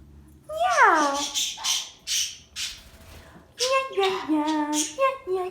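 Pet rescue conure parrots let out a string of loud, harsh squawks and chattering calls at close range, bursting in several rapid clusters while a person speaks softly nearby.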